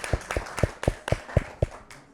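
A group of children at a scouts gathering clapping together in a steady rhythm, about eight crisp, evenly spaced claps at moderate volume, with no talking.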